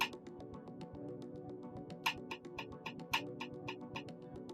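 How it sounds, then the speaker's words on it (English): A TASCAM Portacapture X8 handheld recorder's metronome is set to its stick sound. Steady, evenly spaced woody clicks tick quietly at a brisk tempo, with a few slightly louder accents. "So then the stick sounds like this one."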